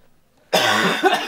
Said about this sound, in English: Cough again, I freaking dare you.